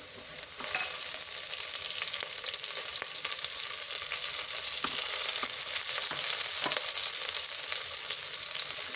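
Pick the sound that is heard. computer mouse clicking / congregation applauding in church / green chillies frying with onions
green chillies frying with onions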